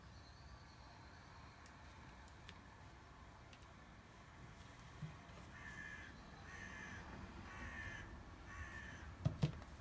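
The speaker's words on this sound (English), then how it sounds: "All the crows out the back." Crows caw several times in the distance over faint background hiss, the calls growing a little more frequent toward the end.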